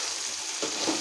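Spice paste frying in a pan, a continuous sizzle with a brief stirring scrape near the end.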